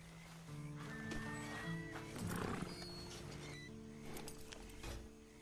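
A horse in the video game Red Dead Online whinnies with shaky tonal neighs over soft hoof clopping and ambient game sound, fairly close and moderately loud.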